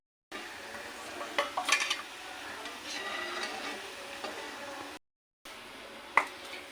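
Gota fritters fry in hot oil until light brown, a soft steady sizzle with a few brief clinks and taps, briefly cutting out near the end before resuming.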